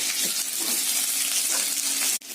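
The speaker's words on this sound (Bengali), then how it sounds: "পেঁয়াজটা ভাজা ভাজা করতে হবে।" Onion sizzles in hot oil in a wok, a bright, steady crackling fry close by that runs evenly before a brief clatter near the end, with no talking.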